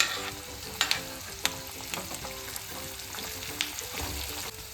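Green chilies and curry leaves frying in oil with garlic for a chicken pepper dry: a steady close sizzle with sharp crackling pops and spatters scattered through, no voices.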